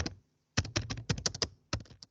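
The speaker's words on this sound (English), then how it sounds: "Source IP I'm typing IP address" Keys on a computer keyboard are pressed in quick bursts of crisp clicks, a short pause followed by two runs of rapid tapping, close and alone.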